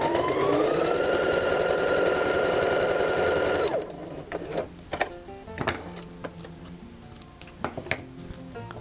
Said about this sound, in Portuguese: vamos passar uma costura somente neste lado aqui que a gente dobrou